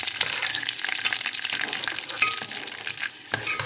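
Almonds frying and sizzling in a pan while being stirred, with steady broadband crackle and scattered scraping clicks of the utensil, close and moderately loud, no talking.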